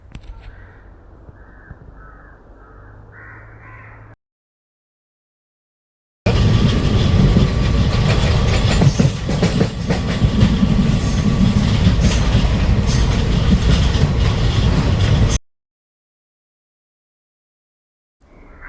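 A passenger train bound for Mumbai rushes past loud and close for about nine seconds, a dense roar of wheels and carriages, with crows cawing faintly before it and quiet gaps around it.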